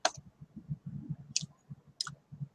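Three sharp, separate computer mouse clicks land close to the microphone over a soft, rhythmic low background patter, in a quiet room.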